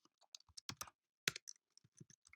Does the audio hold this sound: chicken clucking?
no